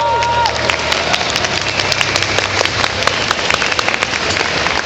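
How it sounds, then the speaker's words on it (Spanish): Applause from a comics convention audience in Mexico welcoming a visiting comic artist, dense steady clapping with some cheering that fills the whole stretch at a loud, even level. "un aplauso, por favor"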